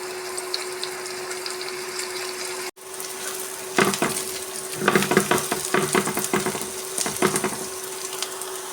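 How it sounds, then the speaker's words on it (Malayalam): Garlic, coriander and curry leaves sautéing in a pan for an egg roast make a steady sizzle, broken by a sharp clack, then a series of scraping stirs in irregular bursts, all close and without talk. "നമുക്കിതെല്ലാം ഒന്ന് വഴറ്റിയെടുക്കാം ഒരു ബ്രൗൺ കളറാവുന്നതുവരെ നമുക്കിതൊന്ന് വഴിച്ചെടുക്കാം"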